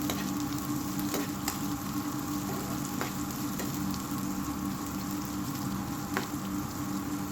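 Chopped onion for egg bhurji fries golden in a pan with a dense, continuous sizzle, broken by occasional stirring clicks, close and even in loudness, with no voices.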